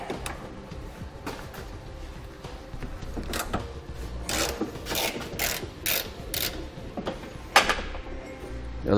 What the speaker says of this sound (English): To remove these two fasteners, we'll need a 13 millimeter socket.